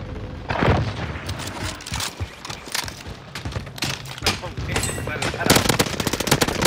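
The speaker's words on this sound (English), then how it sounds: "There's people shooting from their fucking tower." Video game gunfire fills a multiplayer battle as shooters fire from a tower, with bursts of rapid automatic shots and scattered single cracks at varying distances, some loud and near, while players talk over it.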